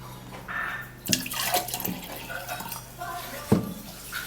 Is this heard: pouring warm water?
yes